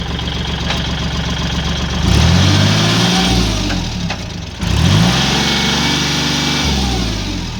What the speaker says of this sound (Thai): เขาปั่นพีทีโอทำงานปกตินะคะ